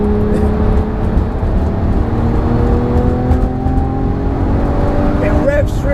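A sports car engine revs hard up toward 8,000 rpm, a loud continuous rising drone from inside the car, with a voice talking briefly near the end.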